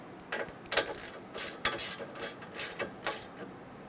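A hand ratchet clicks in short, quick bursts as a line-bracket bolt is snugged down on the AC condenser of a 2000-2006 Toyota Tundra, close and fairly quiet with no talking.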